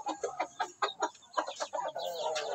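Hens cluck in a steady run of short, close bursts, with a higher drawn-out call near the end.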